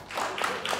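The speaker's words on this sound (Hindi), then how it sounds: "तालियां बजाएं" A studio audience claps on a Pakistani comedy talk show, a short, steady burst of applause at close range, fairly loud with no talk over it.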